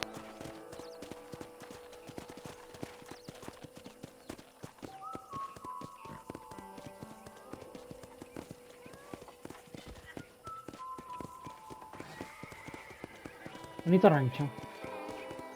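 Horse hooves clip-clop steadily on a ranch in Red Dead Redemption on PS5, a quick rhythmic patter beneath character dialogue and soft music, with a brief whinny near the end.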